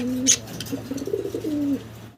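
A racing pigeon gives a close, soft cooing call of a few throaty notes, with a brief chirp from another bird near the start, in a quiet setting.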